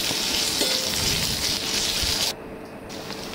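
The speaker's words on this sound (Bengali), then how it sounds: "তারপরে এই বাটা মশলাটা দিয়ে ভালো করে কষিয়ে নিতে হবে" Ground spice paste sautés in a pan with a steady, crackling sizzle at moderate volume that thins out abruptly near the end.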